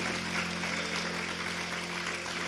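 A church congregation in Betim claps during a worship service, a steady wash of applause held at an even level throughout, fairly distant and soft, with a faint sustained tone underneath.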